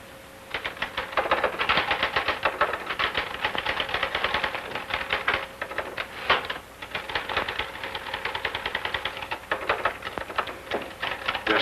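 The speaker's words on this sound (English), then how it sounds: "You're certainly making that typewriter say uncle." Rapid, loud typewriter typing in a 1941 crime drama, a dense clatter of keystrokes in quick bursts with carriage bell rings and brief pauses, close and continuous with no speech.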